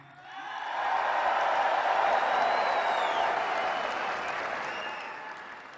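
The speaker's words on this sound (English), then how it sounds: "We'll go, Make America Great Again, you clap if you want that." A rally crowd in Ohio claps and cheers, swelling quickly to a loud sustained roar of applause with scattered whoops, then slowly easing off.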